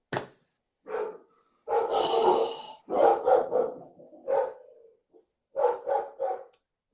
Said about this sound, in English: Telling my dog to shut up.